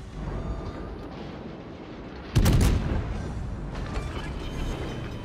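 American warship naval guns fire armor-piercing shells at an enemy cruiser in a naval combat video game: a single heavy booming salvo cracks out, then a long rumbling tail of echoes and mechanical clatter.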